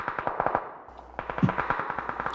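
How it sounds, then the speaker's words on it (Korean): Gunfire in the battle royale video game PUBG Battlegrounds, a rapid series of sharp automatic shots in bursts with brief pauses, moderately loud over the game's background sound. "총소리, 총소리 이건"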